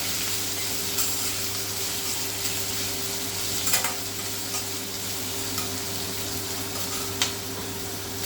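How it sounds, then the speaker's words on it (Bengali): Onion and capsicum sizzle steadily in a hot pan, with a few soft stirring scrapes and clicks over the continuous frying hiss. "আর সামান্য পরিমাণ একটু লবণ দিয়ে সবজিটাকে আমি হালকা করে ভেজে নেব"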